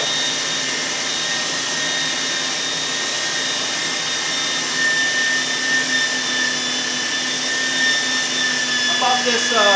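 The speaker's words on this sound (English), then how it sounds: "I bought this grinder at Rural King" A cheap electric meat grinder runs steadily while grinding venison for homemade sausage, giving off a constant motor whine with a faint rattle and a brief clatter near the end.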